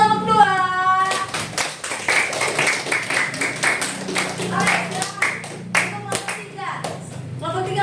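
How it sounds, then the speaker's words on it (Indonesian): A school class claps for a group's presentation in a biology lesson, with bursts of hand-clapping from many students, mixed with children's chatter and voices throughout. "aplaus buat kelompok 2"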